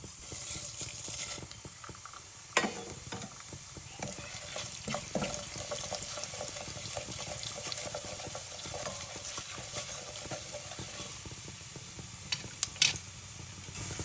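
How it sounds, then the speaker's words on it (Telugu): Urad dal, cumin, mustard seeds and fenugreek seeds frying in hot oil for pesara attu pulusu, giving a steady sizzle and crackle with a few sharp pops and stirring clatters throughout. "మినపప్పు వేగిన తర్వాత మనకి ఒక టీ స్పూన్ జీరా ఒక టీ స్పూన్ ఆవాలు హాఫ్ టీ స్పూన్ మెంతులు అయితే వేసేసుకోండి"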